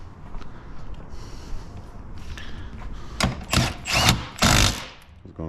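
Porsche Boxster 981 bolt tightened with a torque wrench: a quiet mechanical background, then a cluster of four sharp ratcheting bursts close up in the second half, each lasting a fraction of a second.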